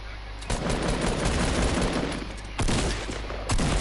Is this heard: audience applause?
no